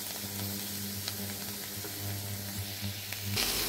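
Spring onions with mustard-chili paste fry over a low flame in a soft, steady sizzle with a low hum beneath and a few faint stirs, ending in a brief louder hiss.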